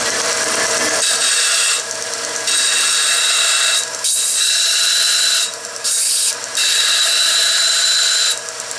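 A Mead band sander fitted with a 100-grit belt grinds steel, making a loud, continuous abrasive whine that dips in short breaks as the workpiece is lifted off and pressed back onto the belt.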